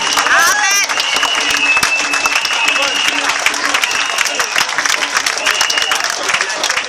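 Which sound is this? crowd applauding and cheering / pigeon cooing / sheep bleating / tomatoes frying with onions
crowd applauding and cheering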